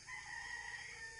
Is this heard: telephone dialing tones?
no